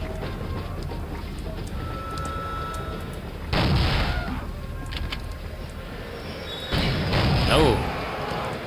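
Gunfire rings out in the Soldier of Fortune video game, with two loud bursts of shots standing out against a steady background of game ambience and chatter.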